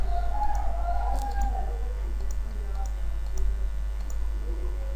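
A computer mouse gives a handful of sharp, sparse clicks, including right-clicks while working in Photoshop, heard close over a steady low electrical hum.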